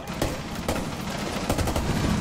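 Rapid bursts of video game gunfire shooting through a wall, several loud cracking shots in quick succession over a busy, dense game soundscape.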